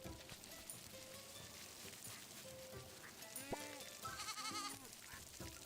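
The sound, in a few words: goat bleating in a farming video game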